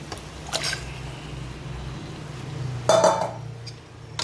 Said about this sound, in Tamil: இப்போ மசாலாவோட கலந்து வச்ச மட்டனை போடணும்